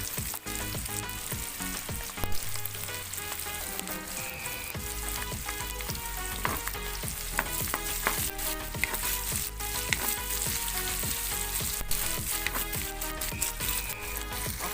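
Ginger sizzles in a hot pan while being cooked for laing, a steady crackling fry with frequent sharp pops and scraping stirs close by.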